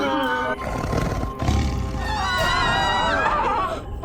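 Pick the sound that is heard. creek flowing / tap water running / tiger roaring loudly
tiger roaring loudly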